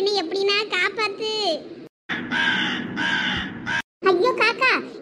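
A cartoon crow caws in rapid repeated bursts, loud and close, with short breaks between calls and voices mixed in, in a comic village scene.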